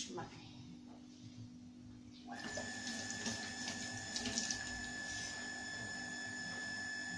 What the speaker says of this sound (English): My tap is connected to a pump, so anytime you are going to fetch your water, the pump has to be sounding.